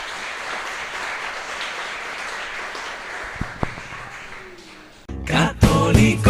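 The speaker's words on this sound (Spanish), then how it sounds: "Fuerte aplauso al Señor." A church congregation applauding, a sustained, fairly soft spread of clapping for about five seconds before music and singing cut in.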